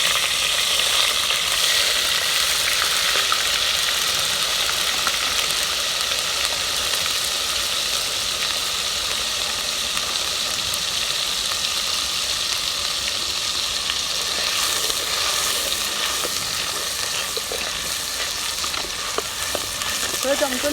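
Onion paste frying in a clay pot, a steady, loud sizzle with fine crackling that runs unbroken throughout with no talk.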